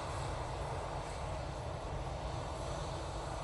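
EasyJet airliner at Manchester Airport departing for Belfast, giving a constant low engine rumble and wash of noise at a steady moderate level, alone without voices.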